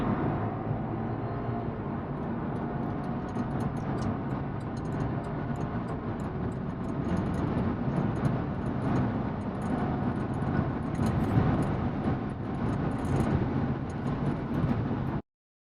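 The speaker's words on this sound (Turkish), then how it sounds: "Şöyle S modunu aldım gaza sonuna kadar bastım." A tuned BMW G20 320i pulls hard at full throttle in S mode, a dense, steady engine and road roar heard from inside the car that holds for about fifteen seconds before cutting off abruptly.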